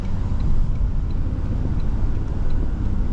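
A 2024 Toyota Sequoia TRD Pro SUV drives along with a steady, broad rumble of engine and road noise heard from inside the cabin, constant and moderately loud with no talking.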